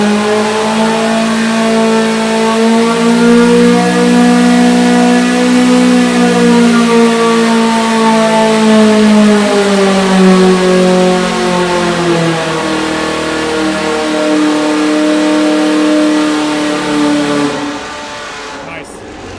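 A Volkswagen engine held at full throttle on a dyno during an engine competition, a loud, sustained high rev that climbs steadily then cuts off abruptly near the end, with a cooling fan running.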